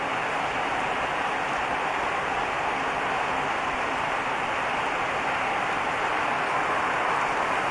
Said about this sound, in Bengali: সকাল থেকে গুড়ি গুড়ি হারে বৃষ্টি হচ্ছে।